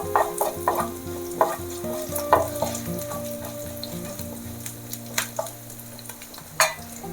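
Green chillies frying in a pan for sabudana khichdi, with a bright, crackling sizzle punctuated by repeated sharp spatula knocks and scrapes against the pan, close and clear with no voices.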